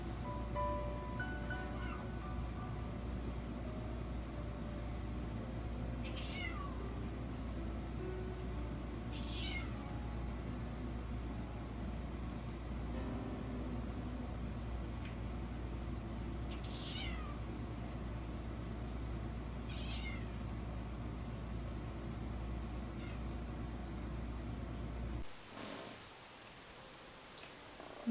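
Cats meow repeatedly at a door near midnight over a steady background hiss, several drawn-out calls spaced a few seconds apart, moderately close.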